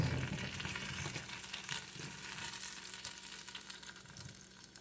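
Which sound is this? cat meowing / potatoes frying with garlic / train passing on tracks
potatoes frying with garlic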